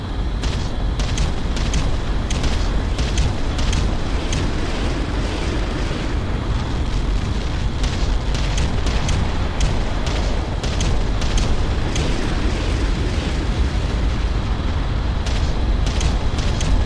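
Sustained bombardment in the real-time strategy game Ground Control: dense, continuous rumbling explosions with repeated sharp blasts layered throughout, loud and unbroken for the whole stretch, with no voices.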